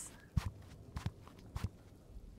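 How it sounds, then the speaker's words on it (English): Footsteps approaching on an indoor floor, three slow, evenly spaced pairs of soft thuds, close and fairly quiet with no talk. "I hear footsteps."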